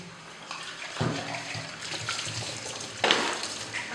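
Water runs and splashes close by as sorrel plant pulp is rinsed, with louder gushes around the second and third seconds over a steady flow. No one speaks.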